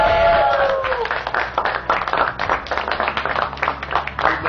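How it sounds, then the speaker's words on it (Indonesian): Audience applause for a student named Ruben at a school mural festival celebration, a dense steady clatter of many hands that starts right after a brief voice and holds for several seconds. "Ayo teman-teman berikan tepuk tangan yang meriah untuk Ruben."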